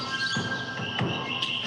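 Birds chirp in a morning chorus, a few short clear calls repeating over a faint steady background, moderately near, no speech.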